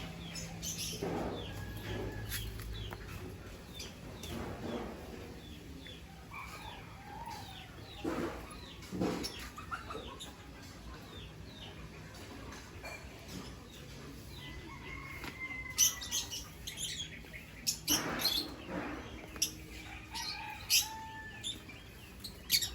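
Birds chirp and call repeatedly in a highland garden, bright tweets scattered throughout at moderate distance over a soft outdoor background.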